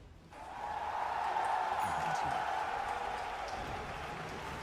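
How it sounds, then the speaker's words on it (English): A small crowd at a Dota 2 match at The International 2021 breaks into a brief swell of cheering and clapping that rises quickly and then holds at a fairly faint, steady level. "The tiniest cheer for OG."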